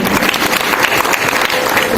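An audience at a tree-planting campaign gathering claps together for themselves, a loud, dense burst of applause sustained through the short stretch.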